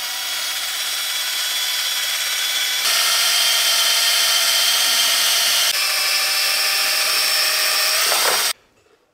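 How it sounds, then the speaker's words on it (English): A power drill stirring liquid soap at low speed whirs steadily at a constant pitch, stepping slightly in speed a couple of times before abruptly cutting off. "You can also use electric drill to accelerate the process, but use the low RPM"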